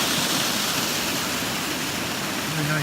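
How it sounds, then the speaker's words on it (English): Water pouring out of a dam, a broad steady roar of rushing flow heard from nearby, continuous and unbroken throughout. "The water coming out of the dam."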